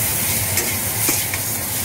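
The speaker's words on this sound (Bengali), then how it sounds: "সবজিগুলো হালকা ভাজা ভাজা হয়েছে," Mixed vegetables for Bengali shukto sizzle in oil in a wok while a spatula stirs them, a loud, close, continuous frying hiss with a few scraping strokes.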